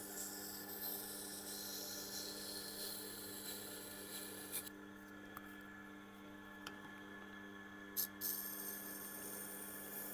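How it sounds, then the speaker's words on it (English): A Blackstone SB250 silicon carbide wheel grinds a CPM S30V steel Spyderco folding knife blade, giving a faint, steady rasping hum under a constant motor drone, broken by a few brief scraping clicks. "the Blackstone SB250, is doing a fine job of grinding the CPMS30V"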